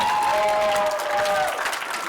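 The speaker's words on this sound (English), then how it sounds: "Give them a round of applause this afternoon." A crowd at a 2019 high school pitch event claps for a Utah high school team, giving a dense, steady applause. A faint tone runs beneath it and the clapping eases slightly toward the end.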